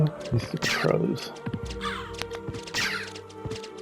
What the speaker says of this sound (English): These stupid crows.